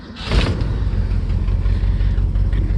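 A 1962 Lincoln Continental convertible fires up: a short burst of cranking catches into a loud, steady, close engine idle with a low, throbbing rumble and no talk.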